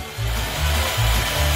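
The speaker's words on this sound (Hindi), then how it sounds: "मैं यहाँ सब ड्रिल करूंगी।" A power drill whirring steadily and close up, a continuous dense buzzing hum with slight pulsing in the low end, with no voices over it.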